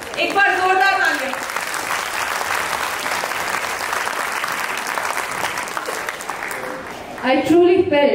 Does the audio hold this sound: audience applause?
yes